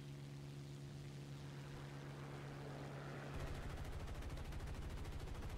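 Rapid machine gun fire from a P-51D Mustang in War Thunder bursts in partway through, a fast continuous rattle over a steady propeller engine drone that fills the first few seconds alone.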